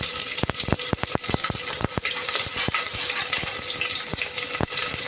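Onions, green chilies, cumin and two bay leaves fry in hot oil with a loud, continuous sizzle, broken by repeated sharp clinks and scrapes of a spoon stirring the pan.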